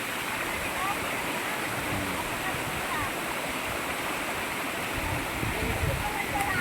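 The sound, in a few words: waterfall in Busay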